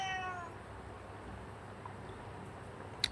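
A hungry cat gives a short meow at the start, close by, followed by quiet background noise and a brief faint click.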